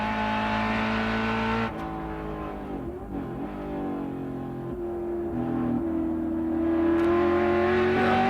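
Onboard a GT race car at Mosport, the engine drones loudly and then cuts sharply for a moment before the throttle comes back on. Revs climb again in a long smooth rising whine, heard close with no voices.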